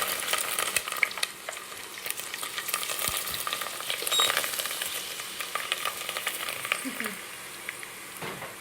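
Prawn crackers fry in oil at about 350 degrees, giving a steady dense sizzle and crackle with scattered sharper pops, close and fairly loud throughout.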